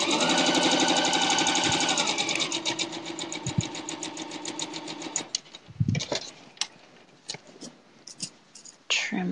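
A sewing machine runs in a fast, steady whir as quilt pieces are sewn, then stops, leaving faint handling clicks and rustles afterward.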